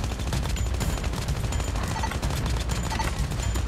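Rapid sustained gunfire from an AK-117 Trapmaster rifle in Call of Duty Mobile, a dense continuous stream of shots at steady loudness throughout.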